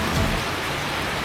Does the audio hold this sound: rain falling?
yes